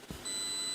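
A multimeter in continuity/diode mode checks for solder bridges between pins on a game console board. After a brief low thump, it gives a steady, unbroken high beep that rings on alone to the end.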